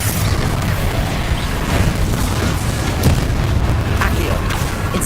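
Explosive Confringo and Bombardo spell blasts in Hogwarts Legacy rumble as repeated booming bursts over a dense, continuous roar of combat, with voices mixed in.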